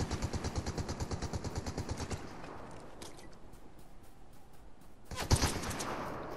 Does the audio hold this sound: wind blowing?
no